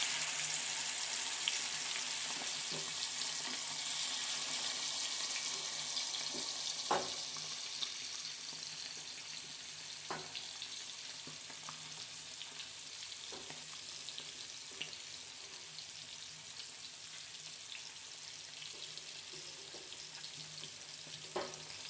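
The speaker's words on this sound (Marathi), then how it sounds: "आता त्याच्यामध्ये ही पापले असे फ्राय करायला सोडणार आहे" Pomfret fish frying in a pan over low heat, a continuous soft sizzle and crackle with a few scattered clicks, close and steady with no talk.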